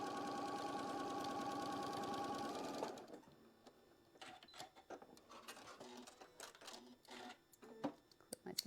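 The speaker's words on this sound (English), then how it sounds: "I am just going to sew again, just right there on that line" A sewing machine stitches along a marked line on quilt block pieces in a steady, fast, close mechanical run for about three seconds, then stops, leaving quieter handling clicks and rustles.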